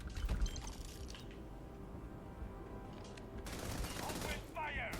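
Gunfire in the space role-playing game Starfield crackles in dense, rapid bursts at moderate distance, with steady background ambience and intermittent voices during the firefight.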